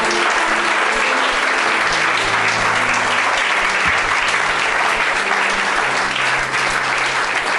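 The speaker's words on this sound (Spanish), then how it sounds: "Dele un fuerte aplauso y glorifique con su boca al Señor." A church congregation claps loudly and steadily in a continuous wash of applause during a sermon, with faint voices and cheers under it.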